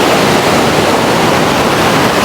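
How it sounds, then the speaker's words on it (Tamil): A small river spills down like a waterfall high on a hillside, a dense, steady rush of water that stays loud and close throughout, with no voices. "இங்கே இருந்து அப்படியே அருவி மாதிரி சின்னனா ஒரு ஆறு ஒன்று வருது"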